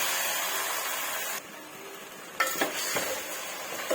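Marinated chicken with a little mint hits a hot pan and fries with a strong, steady sizzle that drops away briefly, then returns with clinks and scrapes of stirring against the pan.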